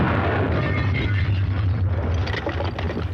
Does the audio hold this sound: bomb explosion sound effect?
yes